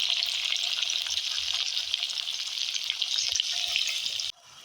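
Garlic, curry leaves and onion frying in hot oil for a stuffed brinjal curry, a steady close sizzle with light stirring throughout that cuts off abruptly just before the end.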